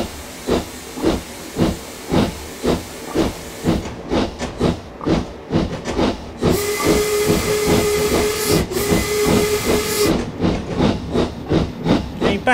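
A Black 5 steam locomotive in Train Simulator chuffs in a steady rapid exhaust beat, loud and close, with a sustained steam whistle blowing over the rhythm midway before the chuffing continues alone.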